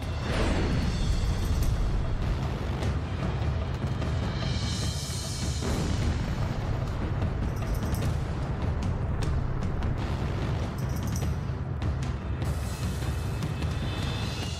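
Chinese military missile and rocket launches with explosions: a continuous, heavy roar of rocket exhaust and rumbling blasts with rushing whooshes, loud and dense throughout with no pauses.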